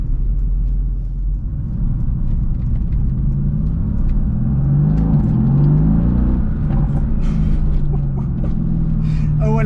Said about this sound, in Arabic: اول اكسيليراسيون في هاد لا ام جي جي تي اس